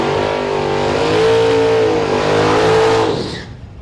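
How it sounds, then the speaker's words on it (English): A big-cubic-inch, high-torque Buick drag car accelerates down the lane at a Hot Rod Drag Week event, a loud, rising engine roar that holds steady before fading quickly as the car moves away. "The big cubic inch high torque Buick grunts its way down the Grand Prix lane."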